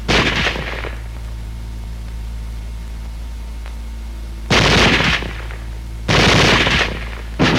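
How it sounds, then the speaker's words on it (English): Bursts of WWII automatic weapon fire, loud and close, with a rapid burst at the start and two sustained bursts of continuous fire later separated by quieter steady hum. "Weapons giving automatic fire will fire continuously as long as pressure is applied to the trigger or until the ammunition is exhausted"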